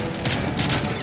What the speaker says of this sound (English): Guns.